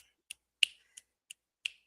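Five crisp finger snaps from an online open mic audience, spaced about a third of a second apart, sharp and close with silence between.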